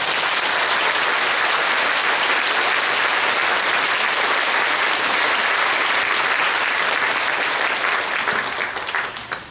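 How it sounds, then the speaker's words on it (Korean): Sustained, loud applause from a large congregation at a Korean church service marking the 80th anniversary of Korea's liberation, held at Yonsei Central Church, welcoming a Baptist convention president; dense clapping runs steadily for nearly ten seconds before tapering off. "큰 박수로 맞아주십시오."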